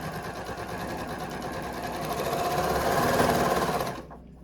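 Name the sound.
sewing machine sewing denim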